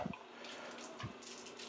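Water drains from a waterlogged expansion tank through a hose toward a floor drain, making a steady, faint hiss of flowing water with a couple of soft low thumps.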